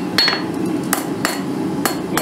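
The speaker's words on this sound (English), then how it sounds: "Let's hammer this flat." Steel fork stock is hammered flat on an anvil, five sharp metallic strikes landing at uneven intervals over a low background hum, with no speech.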